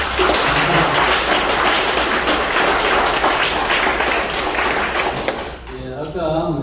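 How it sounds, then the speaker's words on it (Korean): An audience at a Catholic Mass claps in a dense, sustained burst of applause that fades away near the end as a voice begins speaking. "크게 박수로"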